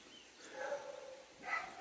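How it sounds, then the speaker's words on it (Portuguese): A few dogs bark and yip at a pig at a distance, in short, fairly faint bursts over a quiet outdoor background. "Os cachorros estão latindo o porco lá."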